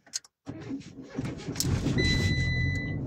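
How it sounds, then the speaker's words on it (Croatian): A manual car is started in first gear without the clutch: a brief crank and click, then the engine catches and jolts into a steady close idle with a thin whine on top. "znači auto upali, malo trzne"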